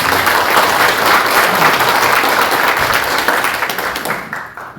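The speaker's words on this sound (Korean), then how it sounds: "박수 한번" Audience applause at an opening ceremony with a Korean National Assembly member, a loud, dense, sustained clapping from a crowd that tapers off at the end.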